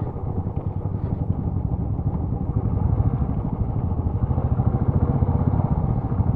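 A motorcycle engine idles steadily at the start of an off-road track toward Guttikonda, its close, even pulsing running unbroken throughout with no talk over it.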